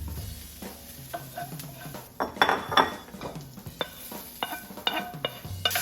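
Greens cooking in a pan with onions as garlic and ginger go in: a light sizzle under repeated metallic clinks and scrapes of a utensil against the pan, with a few louder stirring bursts.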